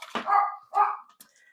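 A dog barks twice indoors, two loud close barks roughly half a second apart followed by a faint short yip, heard during a session of packing eBay sale items for shipping.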